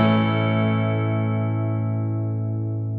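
A single sustained electric guitar note from a Charvel So Cal with Fluence pickups, played with saturation and distortion, rings loud and steady for about three seconds with slowly fading brightness and no talk.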